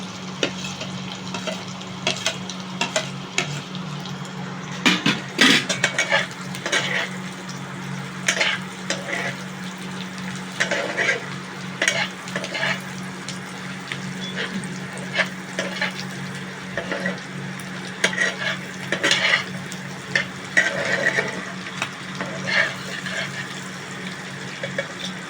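Fish frying in a pan with chopped green chillies gives a continuous sizzle under a steady low hum, punctuated by irregular scraping and clattering of a spatula stirring, close and with no talk.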